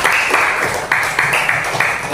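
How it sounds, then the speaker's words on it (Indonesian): A class of fifth-grade students at an Islamic primary school claps together in a steady, loud burst of applause, dense overlapping hand claps filling the room close by, with voices mixed in. "tepuk tangan buat kita semua"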